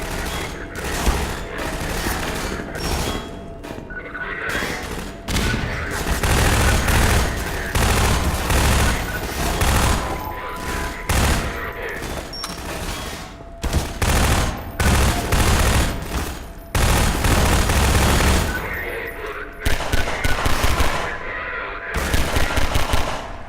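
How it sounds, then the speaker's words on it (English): Rapid submachine gun bursts in Half-Life 2, repeated chattering volleys of gunfire over about twenty seconds with brief gaps between bursts, loud and close, alongside other game sounds. "submachine gun can't hit anything from that distance"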